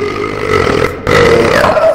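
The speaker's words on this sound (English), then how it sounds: "I've never been more comforted by a burp." A loud, drawn-out burp rolls over a busy game soundscape, swelling after a brief dip and holding for about a second alongside background effects.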